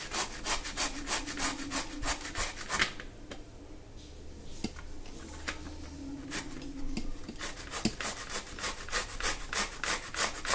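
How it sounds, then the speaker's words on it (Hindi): Bottle gourd being grated by hand on a kitchen grater, a steady run of quick rasping strokes, soft and close, pausing briefly midway before resuming the same rhythm, no speech. "अब मैं लौकी को इस पर घिस लेती हूँ फ्रेंड्स।"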